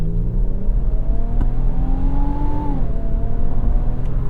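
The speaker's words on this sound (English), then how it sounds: "You hear that little vacuum soundy kind of high-pitched whiny noise? That's the engine sound that they've chosen to go with in this." The artificial engine sound of a 2025 Infiniti QX80 under acceleration, a thin, high whine that climbs steadily in pitch, then drops away over the low road rumble inside the cabin.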